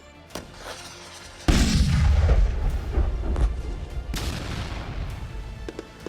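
An anti-tank guided missile explodes on a hideout target, a sudden heavy boom with a deep rumbling decay, followed by a second sharp crack and lingering echo, preceded by a faint pop.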